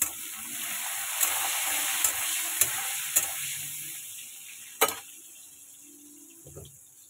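Bitter gourd slices fry in a pan with a steady soft sizzle, broken by several sharp clicks and scrapes of stirring, the sizzle fading near the end, no talk.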